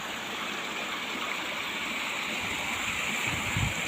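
Flood water rushing over a road, a continuous close stream-like gush with a low burble near the end, steady and without voices.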